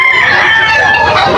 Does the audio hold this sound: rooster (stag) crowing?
yes